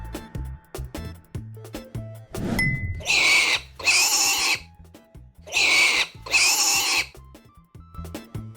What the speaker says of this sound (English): It's a pig. Funny little snorts, right?